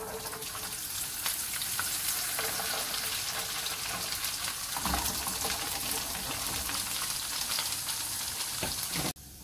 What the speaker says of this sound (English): we fry them in hot oil